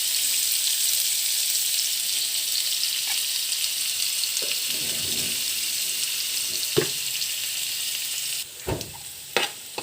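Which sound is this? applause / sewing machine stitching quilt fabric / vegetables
vegetables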